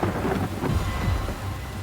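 A thunderstorm with heavy rain in Bali: dense, continuous downpour hiss with deep rolling thunder rumbling underneath, loud and close, no voices.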